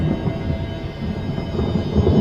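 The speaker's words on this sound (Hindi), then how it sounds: "ठीक उसी वक्त गोल्डन गेट होटल के ऊपर आसमान में बिजली कड़की।" Thunder cracking in the sky over a hillside hotel, heard as a loud, continuous low rumble that rolls on without a break, with rain beneath it and no voices.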